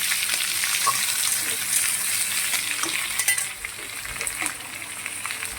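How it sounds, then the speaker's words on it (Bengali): Onions frying in oil toward light brown, a continuous close crackling sizzle with occasional stirring clicks and scrapes, no talking. "হালকা করে পেঁয়াজটা আমি ভেজে নেবো, হালকা ব্রাউন করে একটুখানি ভেজে নেবো আমি"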